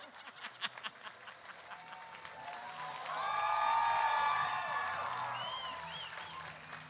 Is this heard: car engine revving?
no